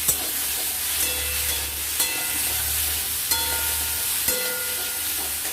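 Curry with crushed ginger and cumin for a small-fish dish with potato, pointed gourd and green banana, stirred in a frying pan: steady sizzling throughout, broken by four sharp scrapes of the spatula at roughly one-second intervals, with no talking.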